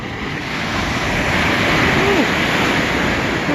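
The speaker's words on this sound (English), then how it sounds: "the ocean is really pissed or aggressive" Big, aggressive ocean waves crash at Santa Monica Pier in a loud, continuous roar of surf, mixed with steady wind buffeting the microphone.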